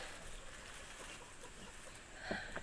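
A few quiet chicken clucks come from a short way off over a faint outdoor background, with a louder burst near the end.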